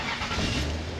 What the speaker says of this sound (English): it does crank and it does start very unreliably